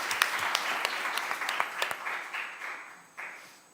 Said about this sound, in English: I think we need to give them a round of applause as well